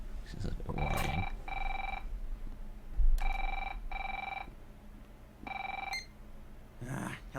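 Telephone ringing in a video game, a loud repeating electronic ring in regular paired bursts with short pauses, close and clear over a faint background.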